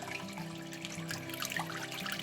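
Room-temperature water trickling slowly into a shrimp tank during a water change, a gentle continuous pouring and dribbling with a low underlying hum, close by and without speech.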